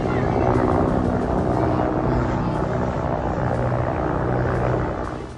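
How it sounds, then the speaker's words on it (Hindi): Pakistani Army military helicopters fly overhead in Balochistan with a loud, continuous rotor roar that holds steady and eases slightly at the end. "ये पाकिस्तानी सेना के हेलीकॉप्टर हैं जो बलूचिस्तान में उस जगह जा रहे हैं"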